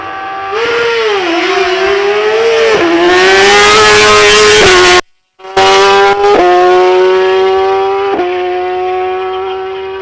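A BMW RR superbike on a drag racing run at a strip revs hard and screams loudly through rising gear shifts, with a brief cut between shifts and no talk.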